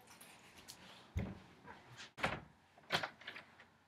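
A door in a house knocks and thumps in three or four separate bumps spaced about a second apart, close and moderately loud over a quiet room.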